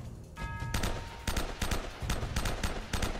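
Rapid gunfire from the video game Uncharted: Drake's Fortune crackles in several quick bursts, loud and close, with a brief tonal game sound before the shooting starts.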